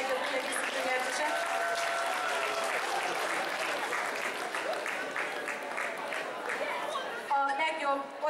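Applause from a convention crowd at a summer cosplay contest awards ceremony, dense steady clapping filling the room with murmured chatter underneath, a brief swell near the end.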